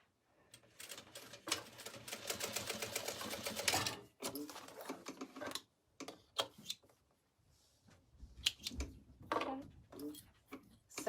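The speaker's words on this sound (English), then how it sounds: "I'm going to sew this and attach this with a 1/4 inch seam allowance. Back stitch." A sewing machine stitches a canvas tote bag handle with a quarter-inch seam, running in fast rattling bursts broken by short pauses and a back stitch, close by and with no talk.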